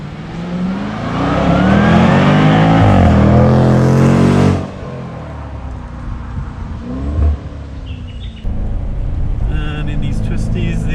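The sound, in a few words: 2022 Jaguar F-Pace SVR engine accelerating hard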